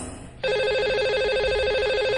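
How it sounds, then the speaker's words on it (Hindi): An outgoing telephone call rings on a radio phone-in line: a loud, steady electronic warbling ring tone starts after a brief moment of near silence and keeps going unbroken. "तो लगाते हैं इन्हें अब कॉल और करते हैं इनसे बात"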